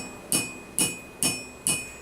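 A hammer taps a nail into a hinge for medieval armor, four evenly spaced metallic clinks with bright ringing tails, close and distinct with no talking.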